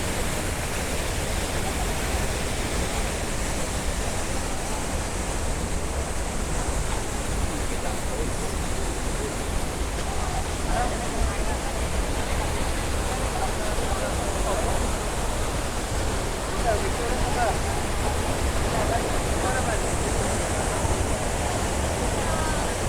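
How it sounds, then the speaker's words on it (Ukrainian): A steady, loud roar of falling water fills the whole clip, broadband and unbroken like a nearby waterfall. "Ось такий водоспад"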